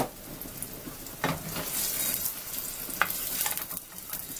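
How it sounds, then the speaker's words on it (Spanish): Chopped onion and two garlic cloves fry in hot oil with a close, steady crackling sizzle. Occasional louder spits and stirring scrapes rise above it, and no one speaks. "vamos a freír la cebolla y los 2 dientes de ajos."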